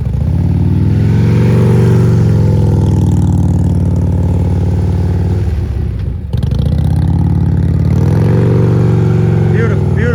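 A CVO motorcycle engine idles and throttles gently during slow-speed riding practice, a steady low engine drone running beneath a voice that keeps talking throughout.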